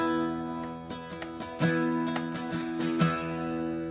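A guitar chord strummed several times in a loose rhythm, ringing out between strokes, close and clear with no talking.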